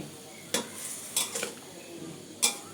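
Vegetables and minced pork stir-fried in a stainless steel pan for a rice-noodle dish, heard as quiet, scattered scrapes and clinks of a utensil against the metal over a faint sizzle.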